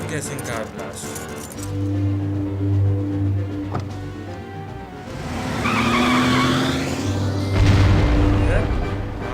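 Car crash and blast in The Operative: No One Lives Forever video game, with skidding, a booming impact and engine rumble rising mid-clip, loud under steady game sound and a commentator's voice.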